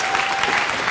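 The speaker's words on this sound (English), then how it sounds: "Give him a round of applause." A crowd applauds loudly at a bowling trickshot event with Chris Barnes and Mika Koivuniemi, a brief, dense burst of clapping.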